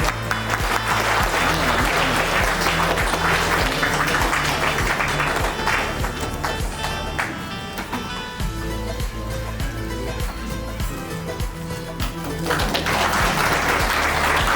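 An audience at a Hindi community worker felicitation ceremony gives enthusiastic welcome applause, a loud, continuous crowd clapping that swells, eases slightly in the middle with a rhythmic drumbeat beneath, then surges again near the end.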